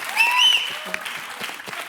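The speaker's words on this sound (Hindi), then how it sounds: "तालियां" Studio audience at a Hindi comedy show, The Kapil Sharma Show, breaks into steady, loud applause that fills the whole moment, with a voice speaking over the clapping.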